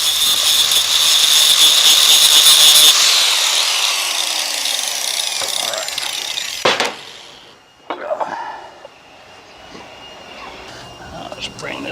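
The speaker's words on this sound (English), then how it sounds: "So I'll take a grinder and cut the excess of that off." A grinder shrieks loudly for about three seconds, cutting off the excess end of a stud on a Peterbilt 389 steer axle air-ride kit install. It then winds down, followed by clanks and low background noise.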